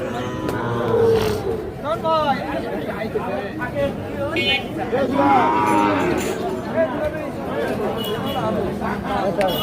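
Sahiwal bull calves low repeatedly at the crowded Ambari cattle market, the moos rising over a busy murmur of chatter and nearby voices that runs throughout.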